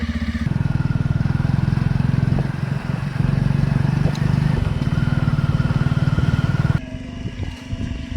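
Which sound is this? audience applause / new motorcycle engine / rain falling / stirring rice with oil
new motorcycle engine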